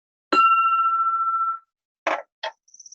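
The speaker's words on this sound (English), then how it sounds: "ding the bell" A bell is dinged once to open a weekly Rotary Club meeting, giving a clear ringing tone that sustains about a second before fading, followed by a few brief clicks and a faint high tinkle.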